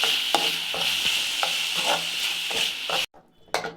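Mushroom pepper dry with pepper powder and soy sauce being stirred in a hot pan, a steady sizzle broken by repeated spoon scrapes and clinks, then a brief quiet gap before another scrape.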